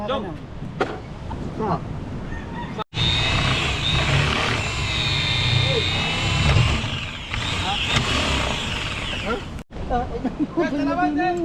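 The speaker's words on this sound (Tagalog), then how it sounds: "Yan o, makina." An engine runs steadily for several seconds with a broad, even mechanical hum that rises slightly midway, while people talk briefly before and after it.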